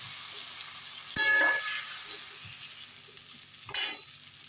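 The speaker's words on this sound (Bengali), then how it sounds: "এবার আমি এই তেলে একটু কালো জিরে দিয়ে দেবো আর এই মাছটা দিয়ে দেবো" Fish and black cumin seeds hit hot oil in a pan, a constant frying hiss with two sudden loud bursts of spattering sizzle as ingredients go in, no voices.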